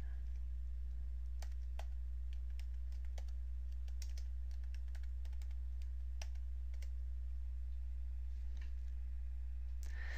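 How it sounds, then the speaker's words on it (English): Clicks of a computer keyboard patter irregularly as someone types a full name, soft keystrokes scattered over a low steady hum, with no talking. "Type your full name and click Enter."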